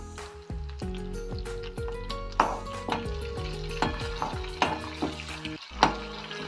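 Chopped small onion frying in hot oil, a soft sizzle broken by spatula scrapes and taps against the pan at an irregular pace, fairly quiet and close with no talking.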